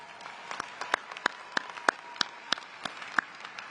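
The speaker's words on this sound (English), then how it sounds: "Please give yourselves a warm round of applause." Graduates applauding at a university commencement ceremony, a soft wash of distant crowd clapping with a few sharper individual claps standing out at a steady, sparse rhythm.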